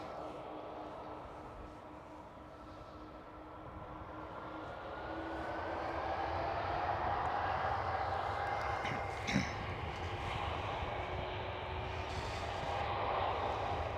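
A KLM Cityhopper Embraer E195-E2 airliner at Schiphol airport makes a steady jet roar that slowly swells louder, with whining engine tones and a brief knock partway through.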